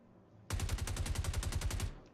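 A short, loud burst of automatic gunfire from Star Citizen: roughly fifteen fast evenly spaced shots lasting about a second and a half, heard close and alone.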